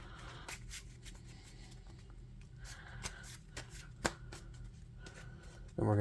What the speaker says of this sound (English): And we're going to shuffle.